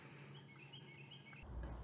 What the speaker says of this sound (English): I hear the birds chirping in the background.